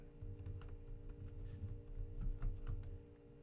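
Keys clatter on a computer keyboard as a root password is typed at a command prompt: a quick, uneven run of close, light clicks over a steady low hum.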